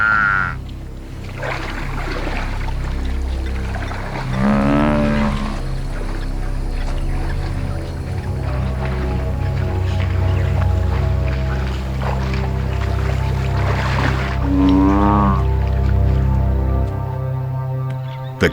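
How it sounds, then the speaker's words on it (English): A cow bellowing in distress while struggling in and out of water, giving two drawn-out, strained bellows several seconds apart over a steady background drone. "She bellows her distress, but the herd is too far to respond."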